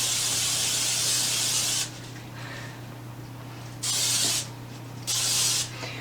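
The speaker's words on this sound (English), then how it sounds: "you're going to spray it really well because these will stick" Cooking spray hisses onto a mini muffin pan in three bursts, a long first spray then two shorter ones, close and loud with quiet gaps between.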